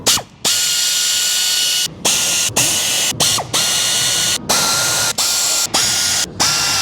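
Ratchet breaking loose oil pan bolts on a crate motor by hand, heard as loud, close bursts of rapid clicking, each cut off by brief pauses as the handle resets, with no voices.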